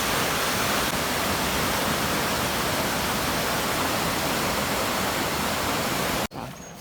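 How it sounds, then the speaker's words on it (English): Loud, continuous roar of floodwater rushing over a weir, a dense unbroken hiss that cuts off abruptly near the end. "here you can see the weir. You probably can't hear me talking over the noise of it."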